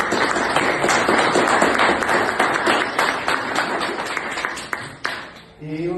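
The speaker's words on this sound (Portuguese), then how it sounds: "E a Camila, que hoje merece o aplauso pelo Dia do Psicólogo." Applause for a psychologist on Psychologist's Day at a talk-show recording, a dense, steady wash of many hands clapping that carries on for several seconds before thinning out near the end.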